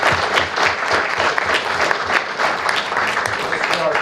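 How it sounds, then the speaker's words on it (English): An audience at a town council meeting applauds a sixth-grade kid mayor, a steady dense round of clapping from many hands that stays loud and even throughout. "let's give Maddie a little round of applause"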